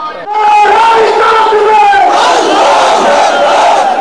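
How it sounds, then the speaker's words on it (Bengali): A large rally crowd chants Nara-e-Takbir in loud unison, a massed roar of voices that swells and holds steady for several seconds at close range. "নারায়ে তাকবীর ধ্বনিতে মুখরিত সমাবেশ স্থল।"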